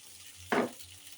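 A spoonful of spice paste of ground cumin, coriander and nut hits a hot oiled pan while cooking bhuna khichuri, giving one loud, close burst of sizzling that quickly settles to a quiet simmer.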